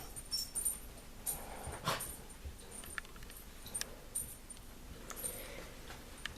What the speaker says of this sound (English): Dogs are sniffing around,